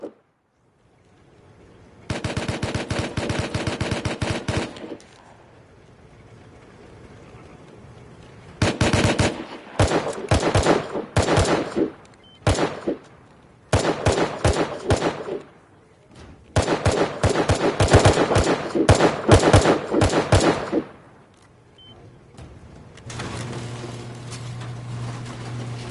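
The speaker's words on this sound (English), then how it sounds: "They are shooting out shotgun traps." Shotgun traps in the survival game Rust fire in long, rapid volleys of booming shots, several separate bursts spread across the stretch with quieter gaps between, loud and close.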